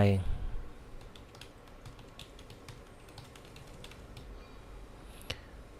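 Rapid keystrokes on a computer keyboard as preset details are typed into encoding software, a steady run of light clicks throughout with a brief voice at the very start.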